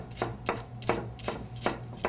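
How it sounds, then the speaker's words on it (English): A knife finely chopping a red onion on a board, with six evenly spaced crisp cuts close by, no talking. "We're going to slice it down the middle and just cut it very, very,"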